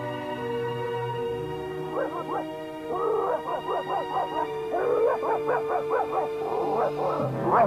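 A dog in an animated series barks in rapid runs of yapping bursts, repeated over several seconds against a sustained musical score.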